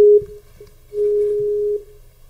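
An outgoing telephone call ringing out: a steady electronic ring tone, the tail of one burst at the start, then a single longer burst of about a second followed by quiet, with no talking.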